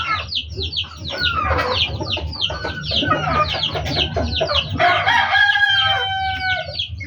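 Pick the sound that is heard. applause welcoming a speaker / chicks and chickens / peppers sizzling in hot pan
chicks and chickens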